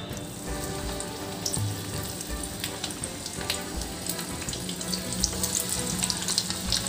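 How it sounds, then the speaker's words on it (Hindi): Mixed vegetable pakoras in gram flour batter fry in hot oil, a steady, crackling sizzle with dense bubbling and scattered pops, continuous and fairly close, with no voices over it. "तो देखिए पकौड़ियाँ डल रही हैं"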